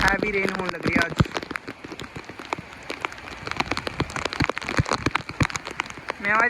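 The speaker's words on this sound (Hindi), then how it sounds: "वो देखो कितनी हैवी रेन होने लग रही है आज।" Heavy morning rain pours steadily onto a rooftop, a constant dense hiss punctuated by sharp, close drops striking the surface, with someone talking over it at the start.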